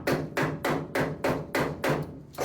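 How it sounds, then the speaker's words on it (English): A hammer chips slag off a stick weld on steel hat channel for a skoolie roof raise, striking in seven sharp, evenly spaced taps that ring with a metallic tone, close up and with no talking. "I'll clean off the slag"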